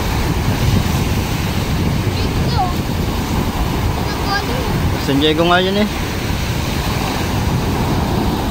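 Stormy sea during a typhoon, with heavy wind and crashing waves roaring steadily and close, while someone speaks briefly over the noise.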